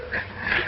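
A dog suspected of killing two men lets out a brief, close whimper in a 1936 mystery film, a short strained whine with no talk over it.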